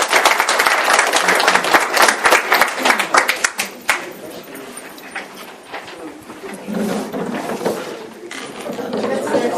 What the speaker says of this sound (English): Let's give June a round of applause.